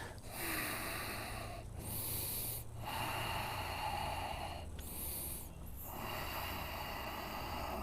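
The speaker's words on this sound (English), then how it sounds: "And breathe deeply." Deep, slow breathing during a yoga class for runners: several loud, airy inhales and exhales follow one another closely, heard up close with no talking.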